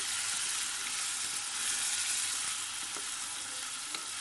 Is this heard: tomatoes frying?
yes